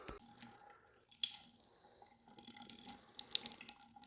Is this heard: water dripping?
yes